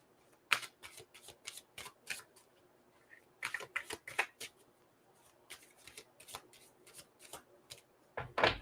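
Heal Yourself reading cards are shuffled by hand in quick riffling bursts, repeated in clusters of crisp flicks separated by brief pauses, close and fairly quiet.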